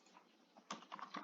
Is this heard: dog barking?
no